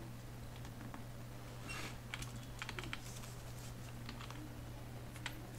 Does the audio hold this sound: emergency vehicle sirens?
no